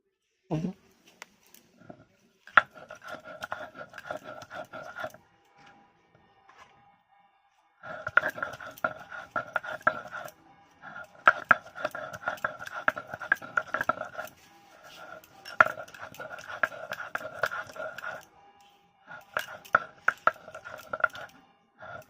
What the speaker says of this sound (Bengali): এবার আমি টমেটোটা বেটে নেব।